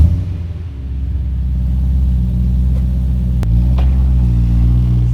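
BMW E92 M3 with MagnaFlow exhaust settles into a deep, steady idle rumble close by, with a sharp click partway through and the engine note firming up afterward; no talking.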